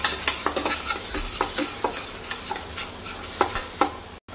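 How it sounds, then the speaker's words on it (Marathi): Masala spices for Maharashtrian chole roasting in oil, stirred with regular, evenly spaced spoon strokes against the pan over a constant close sizzle, then a sudden brief cut near the end; no talking. "मसाला तेल सुटस्तर भाजून घेऊया।"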